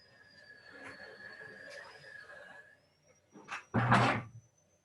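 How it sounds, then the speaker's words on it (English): A door in a classroom is pushed shut over a steady background tone, giving a short scrape followed by a loud, close, solid thud that fades quickly. "That's why I close the door."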